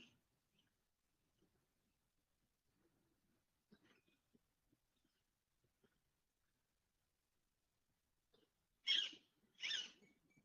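Bird calls ring out twice near the end, two short bright bursts close by in an otherwise near-silent space with faint scattered noises.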